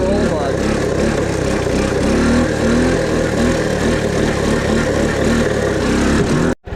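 A Honda ATC three-wheeler engine runs in second gear with a steady, close, buzzing drone that shifts slightly in pitch, while a person talks over it.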